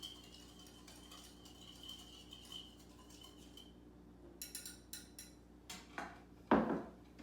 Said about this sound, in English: Whisk that one up.